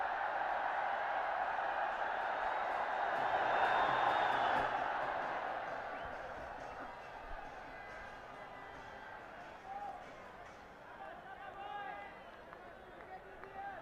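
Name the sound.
cricket crowd roaring at Nepal vs UAE final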